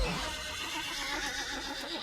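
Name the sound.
horse neighing in a video game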